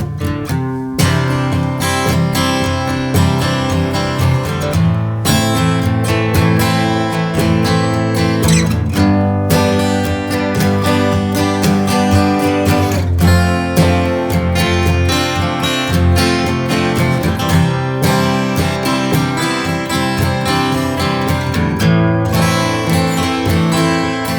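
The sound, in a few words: acoustic guitar chords in DADGAD tuning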